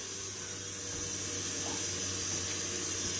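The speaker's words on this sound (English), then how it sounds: "now I'm just going to let that thing fill up with hot tap water." Hot tap water runs in a steady, close, full-pressure rush as it fills a cone for Thai sticky rice, the flow growing slightly louder partway through.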